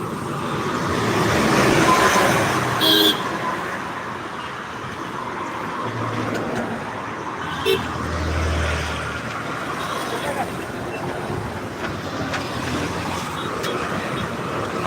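Continuous roadway traffic on the NH4 highway near a large flyover, a steady broadband roar with passing vehicles and a few low rumbles, with occasional talk mixed in.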